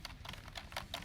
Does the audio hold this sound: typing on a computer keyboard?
yes